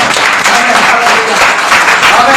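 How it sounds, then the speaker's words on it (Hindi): Church congregation clapping for the pastors, loud continuous applause from a crowded hall with some voices mixed in. "प्रभु के दासों के लिए ताली बजाइए प्लीज।"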